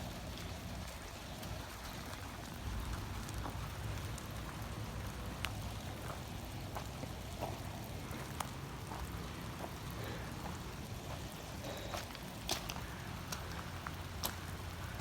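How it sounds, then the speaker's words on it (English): Steady rain patters down on nearby surfaces, with scattered louder drips standing out against a constant soft hiss; no one speaks. "It's starting to rain a little bit harder,"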